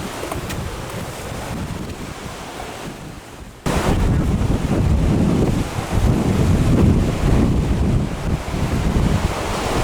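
Ocean surf at Rialto Beach, Washington, seen from a rocky climb about 20 feet above the water: a steady, loud roar of breaking waves with heavy wind buffeting the microphone, rising sharply a few seconds in and staying full.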